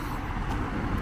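A car passes close by on a street in Turkey, a dense, steady rush of engine and tire noise that fills the short moment from near range.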